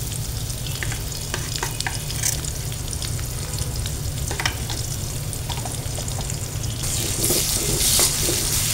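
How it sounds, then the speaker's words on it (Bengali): Onion, green chili and ginger-garlic paste sizzle loudly in a very hot wok for a fish curry, a continuous frying hiss close up with scattered spatula scrapes and stirring clicks throughout, swelling slightly toward the end. "পেঁয়াজ মরিচ আদা রসুন বাটা সবই মিশিয়ে নিচ্ছি।"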